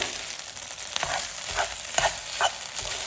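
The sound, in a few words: stirring cooked rice into prawns for prawn biryani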